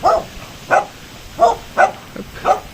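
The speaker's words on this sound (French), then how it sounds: "il y a des petits bébés chiens" Puppies yapping in five short, high barks spaced about half a second apart, moderately near, with no voices over them.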